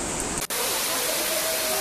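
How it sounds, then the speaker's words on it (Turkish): Kent waterfall in Fethiye, Turkey, rushes with a steady, loud broadband roar that begins abruptly after a brief moment of quieter noise. "Burası Hızlı Kent Şelalesi, yine Fethiye'de."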